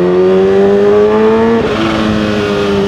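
Kawasaki H2 supercharged motorcycle engine revving hard, a loud, close, rising whine that peaks, drops briefly as it shifts, then climbs again.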